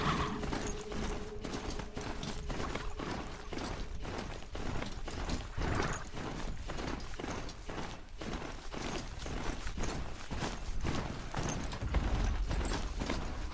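Rapid, steady clip-clop of horse hooves galloping in a video game, a continuous rhythmic pattern of close hoofbeats running the full length with faint mechanical clicking mixed in.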